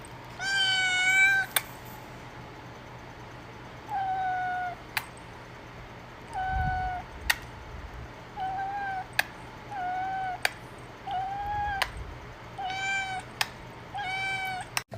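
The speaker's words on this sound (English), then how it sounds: "Why is your cat in a cage?" A cat meows repeatedly, about eight clear, loud close calls spaced across the stretch with short pauses, interspersed with sharp clicks or taps and a faint low hum underneath.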